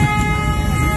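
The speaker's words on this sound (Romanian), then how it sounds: "A, uite-mă că vine tramvaiul." A tram arrives at a stop in Istanbul, filling the scene with a loud, steady low rumble and humming tones, heard up close with no talk.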